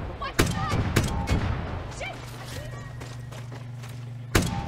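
Gunfire in a modded version of the video game Far Cry 6: a few sharp, loud shots burst out at intervals over a dense, steady game soundscape with a low droning hum, while someone talks over the action.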